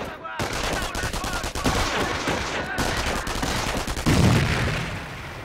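Video game combat with a grenade thrown at a machine gun crew, heard as dense continuous gunfire and bursts throughout, with a heavier blast-like thump near the end.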